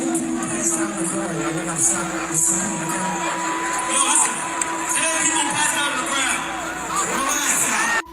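A concert crowd roars and cheers during a live set, a loud continuous wash of whoops and babble with shouts rising over it, while a voice talks over the noise.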